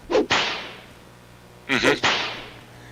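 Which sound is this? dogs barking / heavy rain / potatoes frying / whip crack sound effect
whip crack sound effect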